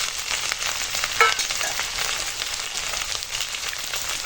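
Cut eggplant pieces hit a pan of onion and ginger-garlic paste for a pumpkin-greens chorchori, frying with a steady, close sizzle and a brief clatter of stirring partway through.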